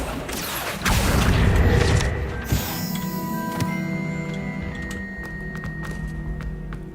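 A Confringo spell explodes in Hogwarts Legacy with a loud thudding blast near the start, then a sustained ringing, humming tail and scattered ticking clicks fading out, with no voices.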